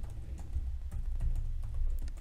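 Keys clicking in quick irregular bursts on a computer keyboard while code is typed, soft and close under a steady low hum.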